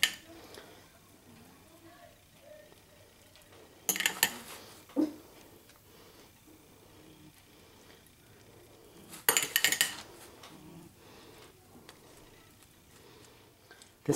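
A fork rakes and fluffs stuffed baked potatoes brushed with melted butter in a baking dish, giving two bursts of metallic scraping against the dish amid a quiet, soft background.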